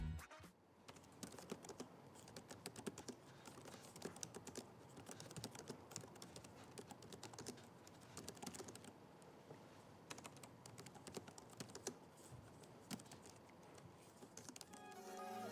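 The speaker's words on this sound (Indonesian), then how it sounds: "ini deh contoh typing test dari keyboard laptopnya" Steady, quick typing on an ASUS TUF Gaming A15 laptop keyboard, soft clicky keystrokes in a continuous stream with brief pauses, close and alone.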